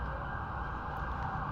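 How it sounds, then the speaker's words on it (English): A loud, steady police car siren drones close by over a dense wash of traffic noise, holding a constant tone throughout. "Do you hear the police car?"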